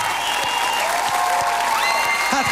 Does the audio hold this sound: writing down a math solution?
no